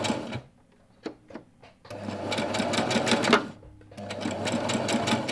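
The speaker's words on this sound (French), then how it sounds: "on va coudre en marche avant et en marche arrière" A domestic sewing machine stitching a fabric pie bag, sewing forward and in reverse for a backstitch: a few short needle taps, then two loud sustained motor-driven runs of rapid stitching separated by a brief pause.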